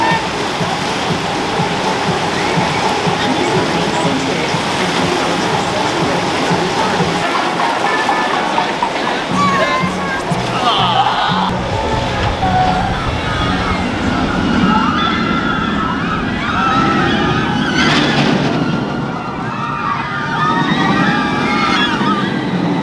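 Rushing water of the river rapids ride and the rumbling, clattering Shockwave roller coaster at Drayton Manor theme park, continuous and loud, with voices and crowd noise mixed in.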